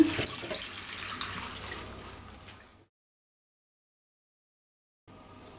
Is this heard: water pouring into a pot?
yes